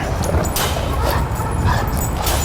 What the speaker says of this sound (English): There's a dog right here.